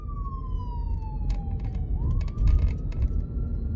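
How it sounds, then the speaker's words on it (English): An ambulance siren wails, sweeping down and back up in pitch over rumbling traffic, with a few short honks or clicks mixed in, fairly close. "there was an ambulance. That's why she wasn't moving."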